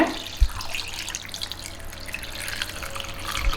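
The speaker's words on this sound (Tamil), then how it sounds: "ஒரு 100 ml வந்து வினிகர் போட்டுட்டு அது கூட வாட்டர் ஊற்றுங்க" Water runs and splashes steadily into a bowl of chicken and vinegar being washed, a continuous close gush with small drips and clatters and no talking.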